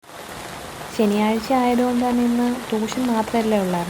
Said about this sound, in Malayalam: ഇവിടെ നല്ല മഴയായിരുന്നു കേട്ടോ.